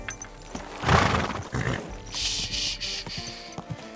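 A horse whinnies loudly up close in the video game Kingdom Come: Deliverance II, followed by a snort and scattered hoof clops on a hard surface.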